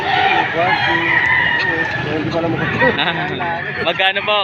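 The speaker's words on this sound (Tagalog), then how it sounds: "Ito po ang kanyang dalang manok ngayon." Chickens brought to a poultry market in Padre Garcia, Batangas cluck and crow close by amid loud, busy chatter as people talk over them throughout.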